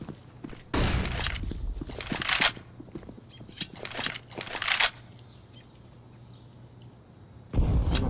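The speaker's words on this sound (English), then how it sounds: "Flashbang out." Several loud bursts of gunfire and a grenade blast from the video game CS:GO, coming in separate clusters with quieter gaps between them.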